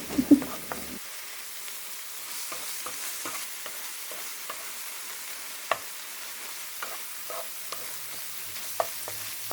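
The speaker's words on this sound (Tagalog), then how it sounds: "ang gagawin mo lang dito ay magigisa ka lang ng giniling" Ground meat sautéing in a pan for a vegetable adobo, with a steady soft sizzle broken by scattered stirring scrapes and clicks close by and no talking.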